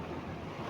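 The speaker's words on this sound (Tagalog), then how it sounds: "Sobrang laki talaga ng mga alon." Big ocean waves surging onto a beach, a steady broadband roar of surf with wind buffeting the microphone, continuous and close with no voices.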